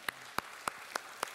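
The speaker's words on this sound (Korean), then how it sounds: "박수 소리를 들어보니까 정말 여러분의 인생의 미래를 향한 기대가 있으신 것 같아요" Five crisp, evenly spaced claps from a church congregation at a steady beat, sharp and distinct against a quiet background.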